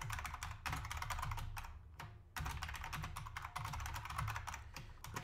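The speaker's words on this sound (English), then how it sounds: "Just typing out the old hello world." Rapid, steady typing on a computer keyboard, close and clear, with dense clicking keystrokes broken by a couple of brief pauses and no talking.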